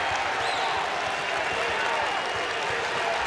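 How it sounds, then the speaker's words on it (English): A college wrestling crowd at a Big Ten match cheers and claps in a steady, loud wash of noise while a commentator talks over it. "Crowd's getting into it."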